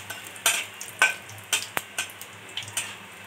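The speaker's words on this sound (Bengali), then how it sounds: "জিরেটা ভাজা হয়েছে" Whole cumin seeds frying in hot oil in a pan, a soft, steady sizzle punctuated by several sharp scraping stirs of a spatula at irregular intervals, close and fairly quiet.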